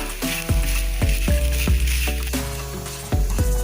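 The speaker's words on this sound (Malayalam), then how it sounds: "ഇനി ഇത് നല്ലതുപോലെ ഒന്ന് ഫ്രൈ ചെയ്തെടുക്കാം." Green chilli and tomato curry frying in a pan, with a steady loud sizzle and repeated knocks of a utensil stirring at regular intervals, close by with no talk.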